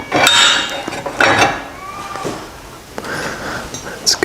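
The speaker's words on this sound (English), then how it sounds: "All I need is my gear wrench, 24mm ratchet and spanner that I use for every single bike to do up that nut." A ratchet wrench tightens a nut on a Hustler Badboy mini chopper, giving a few separate bursts of quick metallic clicking spaced across the moment, close by and fairly loud.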